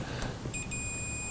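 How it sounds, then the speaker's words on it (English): A multimeter in continuity mode sounds a steady high-pitched beep while probing an arcade monitor board, starting partway in and holding to the end over a quiet room hiss. "I'm getting beeping from there to there."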